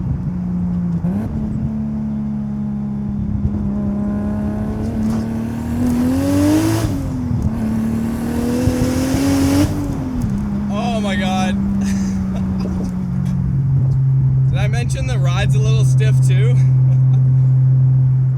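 A 700 hp Mk4 JDM Toyota Supra engine pulls through the mid-range, a loud steady drone rising in pitch, easing off, then climbing again, with someone talking over it.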